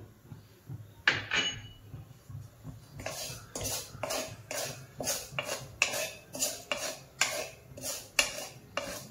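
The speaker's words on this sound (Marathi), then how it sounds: "आपण आता रवा आधी ना कोरडाच भाजून घेऊया।" A metal spoon scrapes and clinks against a pan while semolina (rava) is dry roasted without ghee, an irregular run of close, sharp stirring knocks after a quieter start.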